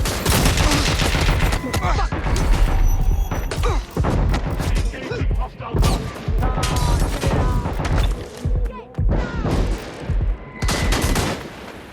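Dense video-game gunfire from Watch Dogs Legion, with rapid bursts and loud shots crackling almost without pause, crashes and booms mixed in, and voices calling out over the firefight.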